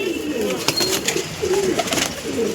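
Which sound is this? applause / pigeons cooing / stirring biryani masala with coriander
pigeons cooing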